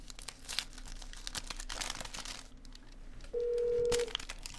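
Phone dialing a number, with crackly rustling handling noise and a short steady tone near the end, the number dialed twice in a row.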